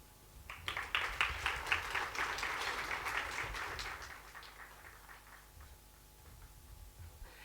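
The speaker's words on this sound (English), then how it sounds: "Let's give him another round of applause, please." An audience at a live budget dissection event in Namibia breaks into applause, a moderate burst of scattered clapping that builds quickly, holds for a few seconds, then tapers off into quiet room noise.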